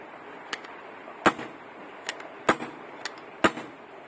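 Small firecrackers keep bursting, with four sharp, loud cracks at irregular intervals and a few fainter pops between them, all over a steady background hiss.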